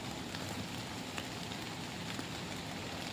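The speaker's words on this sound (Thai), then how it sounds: "ฝนมาแล้วครับผม" Rain begins falling in a forest, pattering steadily and softly on leaves and ground as an even, continuous hiss with no voices.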